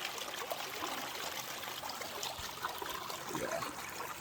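River water rushes and splashes continuously in a steady broadband wash, close and fairly loud, with no talk.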